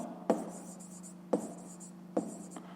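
A pen writing out a fifth-grade math exercise solution, three distinct bursts of scratching strokes spaced about a second apart, close and clear in a quiet room.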